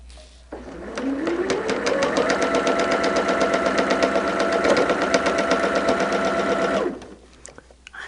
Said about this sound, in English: we're going to stitch those real quick. And this is just a straight seam down the fabric.